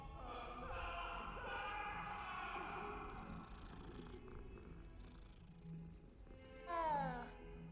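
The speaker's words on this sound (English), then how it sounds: "Hello, kitty cat!" Meows from a cat in the Hogwarts Legacy video game, with a rising, whiny call near the end. It sits over a steady bed of game music and ambience.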